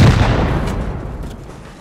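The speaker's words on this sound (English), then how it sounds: "Oh, I'll shoot the last rocket." A rocket launched in the console version of Rust during a raid, heard as a loud, dense blast that rolls out into a long, fading rumble with no other voices.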